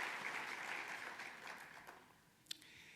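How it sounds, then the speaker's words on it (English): Audience at a 2016 State of the City address applauding council, city staff and community volunteers; a dense burst of clapping that thins and fades out over a few seconds, ending with a single sharp clap. "a round of applause."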